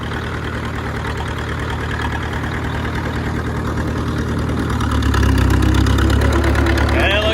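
An old bulldozer's diesel engine runs at a rough, knocking idle, then catches and swells louder partway through into a heavier, steadier rumble, close and continuous.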